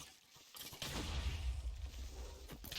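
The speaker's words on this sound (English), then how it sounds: "That was a very close explosion." A close explosion in a dungeon-crawling video game, a sudden heavy boom that swells into a long rumbling, crackling roar with debris-like noise, loud and near.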